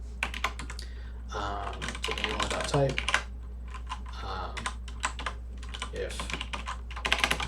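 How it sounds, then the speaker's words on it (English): Code being typed on a computer keyboard during game engine development, with quick bursts of clicky keystrokes close to the mic while someone speaks over them. "I can reference the key by typing it in with the square brackets."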